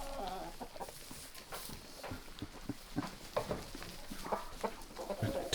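Chickens and roosters cluck softly nearby, a steady murmur of low, irregular clucks and chatter from several birds.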